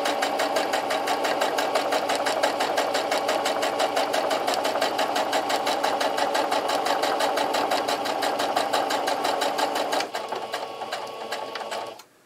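A domestic sewing machine stitching fabric for a homemade sponge, running at a fast, even stitch rhythm for about ten seconds, then slowing briefly before stopping, close and loud, no talk.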